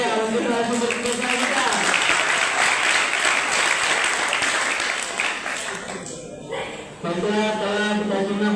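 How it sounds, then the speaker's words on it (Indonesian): Seminar audience applauding a speaker at a book-writing motivation event, a dense sustained burst of clapping lasting several seconds, briefly dipping before picking up again, with some voices mixed in. "Beri tepuk tangan yang meriah untuk narasumber kita."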